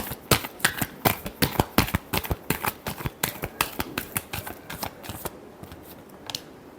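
Tarot cards being shuffled by hand make a rapid, crisp series of riffling snaps and flicks, close and steady for several seconds before tapering off.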